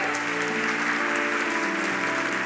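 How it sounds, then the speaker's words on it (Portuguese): A church congregation claps steadily and continuously, a dense even wash of applause throughout. "Vamos aplaudir o nome de Jesus."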